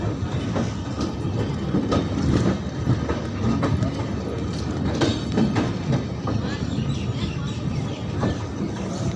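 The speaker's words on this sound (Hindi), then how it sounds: "हमारी ट्रेन यहाँ से डिपार्ट हो चुकी है।" A superfast express train departs a railway station, rolling along with steady rumbling and rhythmic clacking of wheels, loud and close, with faint voices underneath.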